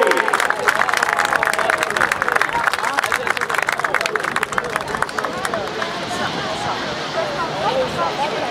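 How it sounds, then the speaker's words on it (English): An airshow crowd applauds a C-17 Globemaster III demonstration, a dense patter of clapping that stays steady and then thins slightly toward the end, with an announcer's voice over it. "How about a nice round of applause for the C-17 Globemaster III?"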